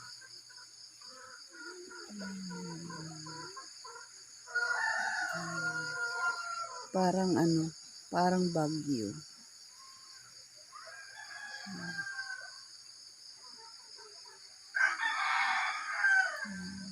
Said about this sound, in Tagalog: Dami manok doon.